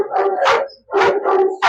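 Repeated loud barks from a heavy male Rottweiler-type guard dog during protection training, three close, forceful bursts in quick succession with a short pause between them.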